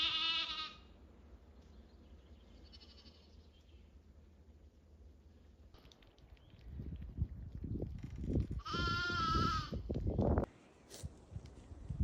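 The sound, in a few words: sheep and lambs bleating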